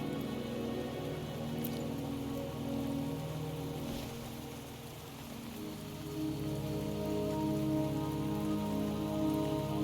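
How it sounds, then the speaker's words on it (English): Steady rain from the video game Wuthering Waves, a dense even patter that holds at a constant moderate level throughout, with a faint low hum of background music beneath and no talking. "Don't worry, the rain won't last much longer."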